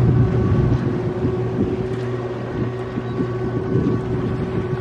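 A sailboat under sail at sunrise in the Gulf Stream, with steady wind rushing over the microphone and a constant low hull and water rumble throughout, loud and continuous with no talking.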